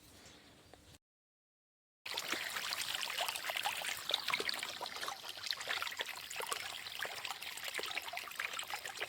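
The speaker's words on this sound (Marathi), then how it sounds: "आज आपण गव्हाला पाणी देणार आहोत पाणी सुरू केलेलं आहे" Irrigation water flows into furrows in a wheat field, making a steady, close trickling and gushing wash. A brief silence comes early, then the flow continues evenly with no talking.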